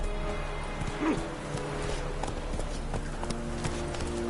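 Roach, the horse in The Witcher 3, gallops with a steady, quick clip-clop of hooves that carries through the whole stretch at moderate level, with game ambience and a faint voice underneath.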